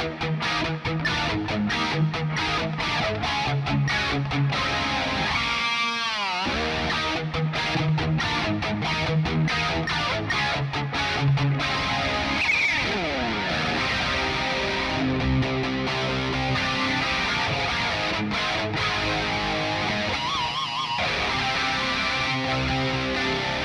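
Electric guitar played through a Quad Cortex micro pitch shifter with an EVH 5153 amp capture, a continuous distorted riff with chords and pick slides, loud and alone without talk.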